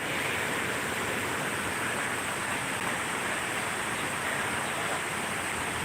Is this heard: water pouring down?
yes